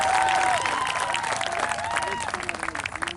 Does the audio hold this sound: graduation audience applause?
yes